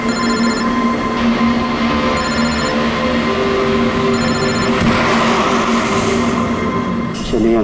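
A landline telephone rings in repeated short electronic bursts, three rings spaced about two seconds apart, loud over a constant rumbling background like a moving vehicle.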